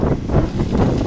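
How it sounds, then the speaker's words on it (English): Strong wind buffets the microphone outdoors after dark, a steady loud roar with gusting swells throughout. "the wind did not stop while we were in there"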